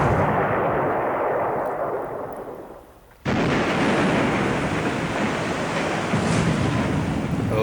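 Artillery shells from a warship's 8-inch guns strike a destroyer in the World War II naval game War in the Pacific: AE. A loud, continuous roaring rumble fades briefly, then a sudden heavy blast erupts into sustained explosive noise.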